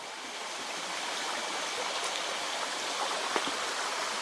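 Steady broadband rush of a large mountain stream at night, continuous and full, running nearby with no voices.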